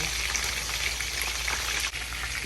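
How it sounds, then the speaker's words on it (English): Steady, dense sizzling and crackling of jerk meatballs frying in a hot pan, continuous and close, with no voices. "This is sizzling away."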